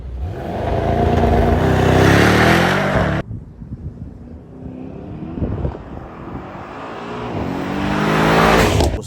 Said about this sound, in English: when I mash that throttle, I don't have to worry about spinning or anything